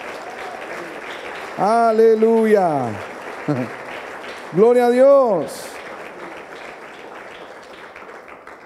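A church congregation applauds during a sermon, a steady, moderate wash of clapping running underneath a preacher's loud, sung-out exclamations that come in two bursts.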